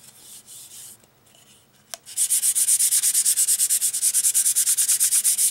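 A foam sander is rubbed by hand over a painted acrylic piece, making a close, rhythmic scratchy swishing in quick even strokes after a few quiet brushing sounds and a single tap.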